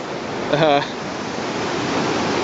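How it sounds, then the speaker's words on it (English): A waterfall formed by a flooded river pours in a steady, broad rushing wash of water, with a short voice-like tonal sound breaking in early on. "There's where the waterfall is now."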